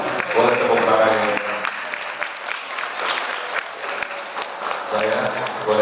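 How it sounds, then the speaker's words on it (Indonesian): An audience claps inside a mosque during a Maulid Nabi gathering, a full burst of applause mixed with voices, easing off in the middle and swelling again toward the end. "Boleh tepuk tangan ya"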